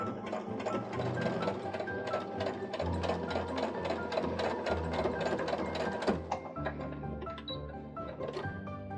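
Sewing machine with a gathering foot stitching fabric into ruffles, a rapid steady mechanical chatter of the needle running continuously and close, with slight changes in speed.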